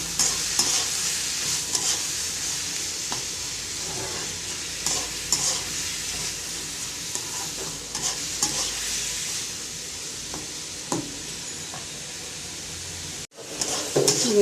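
Shrimp and onions sizzle in a pan while a utensil stirs them, steady frying hiss with repeated scraping strokes, close and alone, with a brief dropout near the end.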